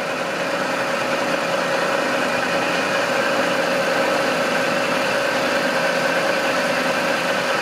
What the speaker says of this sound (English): Let's just see what happens if we wind up the speed of the mill